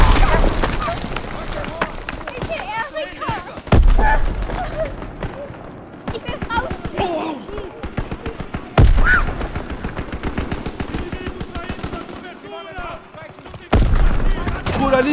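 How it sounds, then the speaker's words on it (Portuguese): Gunfire in a Call of Duty: WWII shootout: repeated loud bursts of rifle and machine-gun shots crack out at intervals, with in-game voices shouting over the battle. "Tiroteio aqui, muito arriscado!"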